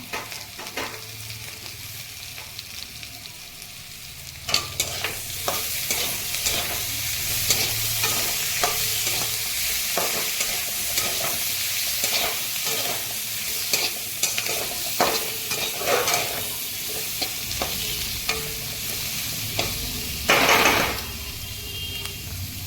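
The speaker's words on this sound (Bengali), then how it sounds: "ক্যাপসিকামগুলো দিয়ে 3-4 মিনিট আমি নাড়বো।" Capsicum frying for mixed fried rice in a hot pan, with steady loud sizzling and repeated scraping stirs of a spatula, close and continuous.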